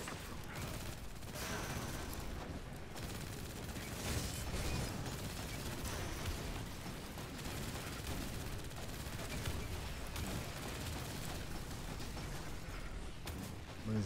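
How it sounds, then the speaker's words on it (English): Gunfire in the Destiny 2 video game rattles in dense, continuous bursts at steady loudness across the whole stretch, layered with mechanical weapon noise and a busy wash of battle sound. "What are they shooting at?"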